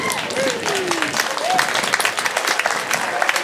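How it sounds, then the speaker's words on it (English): Dense crowd applause for a jazz band and jazz combo at an outdoor pops picnic in a park, steady and fairly loud, with rising whoops and voices calling out over the clapping. "We'll take one more round of applause for our jazz band and our first jazz combo"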